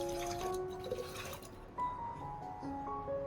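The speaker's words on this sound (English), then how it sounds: "I will filter out the garlic, keeping only the water to take care of the plants" Garlic-infused water is poured through a filter for watering orchids, a soft close trickle with liquid pitches rising as it fills and a few small drips and splashes.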